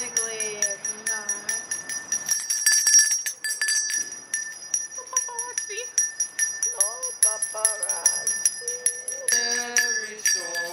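A handbell rings repeatedly in quick rhythmic bursts during Christmas shopping, bright and close. Music and voices are audible around it.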